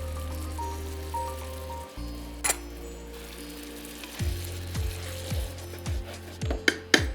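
Yogurt frying in hot oil with chopped green chillies, a steady close sizzle and spatter, with a low hum and some stirring taps near the end.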